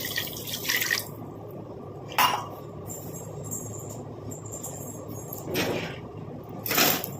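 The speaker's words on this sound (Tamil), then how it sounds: "1 டம்ளர் அளவுக்கு நான் தண்ணி சேர்த்துக்கிறேன்" Water pours into a pot in short splashing bursts, separated by a quiet background hum.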